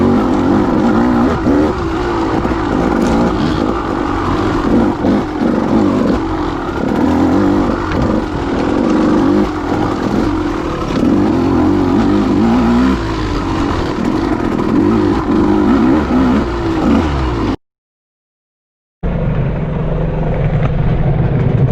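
A KTM 200 XC-W two-stroke dirt bike rides a singletrack trail, its engine buzzing and revving continuously up close, rising and falling with the throttle, before a short drop to silence and a return of the engine.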